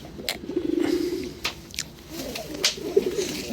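Ringed pigeons in a fancier's loft coo nearby in soft, low, rolling calls, repeated a few times with light rustling around them.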